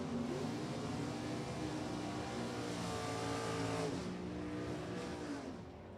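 Drag racing cars at Lebanon Valley Dragway in an NHRA race, engines roaring loud and continuous as they launch, with rising revs and gear changes, fading slightly at the end.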